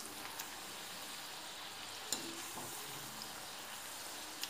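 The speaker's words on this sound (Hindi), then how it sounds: "तो ऐसे ही हम इनको फ्राई कर लेते हैं थोड़ा सा ब्लैक होने तक" Bread gulab jamun balls frying in hot oil, a steady bright sizzle that carries on evenly throughout with a couple of small pops, no talking.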